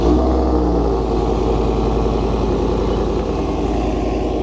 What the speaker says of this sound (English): let's hear that V8.